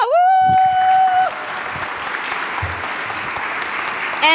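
Conference audience applauding conference speakers: a sustained wash of many hands clapping, loud and continuous, with a brief whoop or tone at the start before the clapping settles into an even roar.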